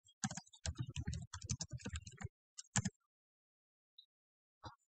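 Keystrokes on a computer keyboard, typed into a spreadsheet cell, come as a quick close run of clicks for about two seconds, then a short burst and a few isolated taps amid quiet.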